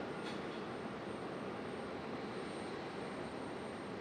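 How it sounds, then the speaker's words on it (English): A small Aeromexico Connect Embraer E175 jet rolls off the runway at Raleigh-Durham, heard as a faint, steady engine hiss and rumble from a distance with no talking. "Aeromexico Connect exiting the runway quickly"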